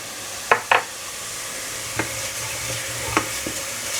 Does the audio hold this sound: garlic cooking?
yes